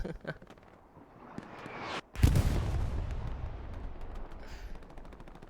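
A double rocket strike lands behind a Panzer IV tank in a competitive World War II game match: one sharp, loud blast, then a long rumbling roar that slowly fades over faint background battle noise.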